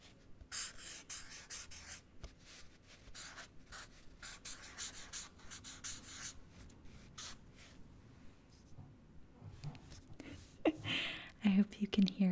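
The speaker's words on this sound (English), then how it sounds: "decided to do Sharpie on paper, because that is one of my favorite noises" A Sharpie marker squeaks and scratches across paper in close, quiet strokes, lifting and resuming in rhythmic bursts with soft breathy pauses between them.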